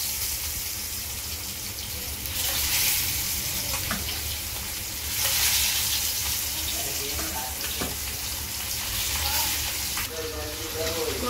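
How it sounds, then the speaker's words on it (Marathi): Bangda mackerel fish frying in a pan, a continuous hissing sizzle that swells and fades in waves, with soft clinks and someone talking over it. "आता बांगड्याचा खालचा जो पोर्शन आहे तो आता फ्राय होत आहे"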